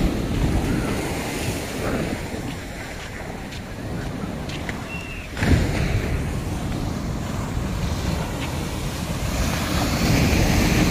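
Sea waves break along the eastern shore of Rushan Silver Beach in mid-August, a continuous loud roar of surf with wind buffeting the microphone and a heavier surge midway.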